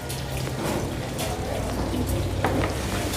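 Egg-dipped chicken sandwiches frying in oil in a kadhai at a Karachi street food stall give a dense, steady sizzle and crackle, loud and close, with a brief sharper pop near the end.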